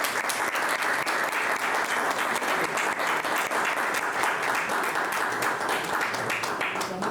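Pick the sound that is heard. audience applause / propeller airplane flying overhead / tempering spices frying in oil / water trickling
audience applause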